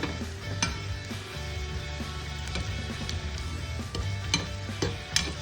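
Red chili powder tadka for dhaba-style moong dal frying in a pan, a soft steady sizzle under scattered clinks and scrapes of a spoon stirring against metal.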